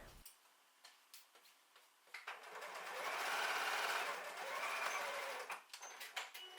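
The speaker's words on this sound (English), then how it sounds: "Remember to backstitch at the end of your line of stitches." Domestic sewing machine backstitching at the end of a seam on a tote bag, a soft whirring run of a few seconds framed by faint ticking clicks, quiet and close.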